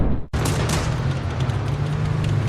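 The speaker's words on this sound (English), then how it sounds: "The second is obliterated instantly by the Leopard's shell." Leopard tank shell striking and destroying a Russian vehicle: one sudden heavy boom followed by a sustained loud, roaring rumble of fire and debris.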